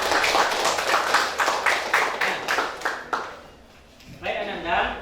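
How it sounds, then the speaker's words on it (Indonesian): A classroom group claps for group 1 after their discussion, a steady run of rhythmic handclaps that thins out and fades, followed by a short burst of voices. "Kita kasih aplaus kelompok 1."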